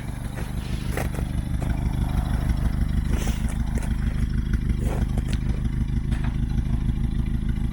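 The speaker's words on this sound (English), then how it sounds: "which is using the Scout to nudge the truck into place." An International Scout's engine idles and chugs steadily up close while it nudges a truck into place, with a low rhythmic throb and occasional clanks over the top.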